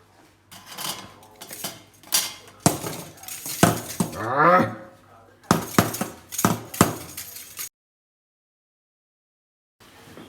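An IKEA spoon stirs dry ingredients for cream cheese rolls in a bowl, knocking and clinking against the sides in irregular bursts of close, loud taps before it abruptly goes quiet.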